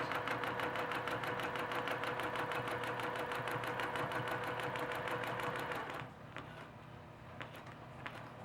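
A sewing machine stitches across a quilt row in rapid, even pulses for about six seconds, then stops, leaving a few faint handling clicks.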